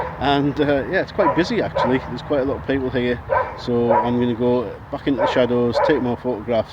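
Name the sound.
dog barking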